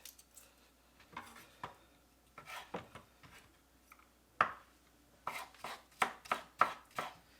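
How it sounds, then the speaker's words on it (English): Garlic being peeled and crushed on a board while making a Thai beef salad: irregular sharp knocks and thuds, clustered near the end, close and moderately loud, with no talking. "So with the garlic, just peel the garlic, crush it."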